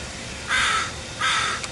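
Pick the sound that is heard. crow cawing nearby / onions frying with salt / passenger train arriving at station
crow cawing nearby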